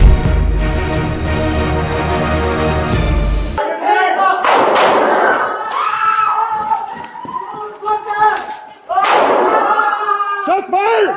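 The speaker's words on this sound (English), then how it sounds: "Shots fired!" Gunshots during a police confrontation with an armed man in St. Charles, Illinois: loud sharp bangs and thuds burst out amid shouting voices and commotion, several reports spaced across the scene.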